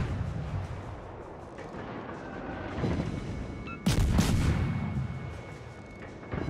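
Naval guns of the battleship Kongo firing in World of Warships, a heavy booming salvo midway that rolls out over a constant rumbling battle backdrop, with another blast starting at the end.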